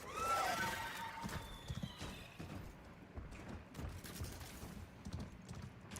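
A horse in a video game whinnies loudly at the start, then hooves clip-clop in a quick galloping rhythm, with distant game noise in the background.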